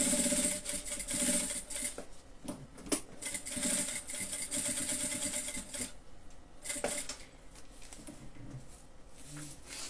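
Sewing machine stitching a bandana bib for a baby with a waterproof lining, whirring in close bursts with rapid needle clatter, briefly stopping and starting again, fairly quiet.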